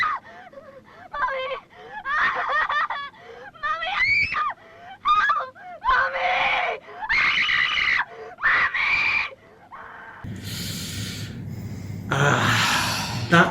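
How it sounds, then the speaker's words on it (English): A girl screams in pain again and again, piercing, ragged cries broken by gasps and wheezing breaths, close and loud. "That sounds like she was actually screaming in pain"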